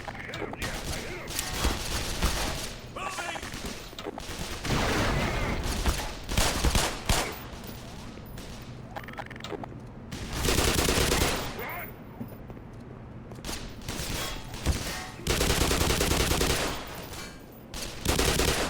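Sustained rapid gunfire in the Black Mesa video game, with dense automatic bursts and repeated shots that surge and fade across the clip, loud and close, with someone talking in between.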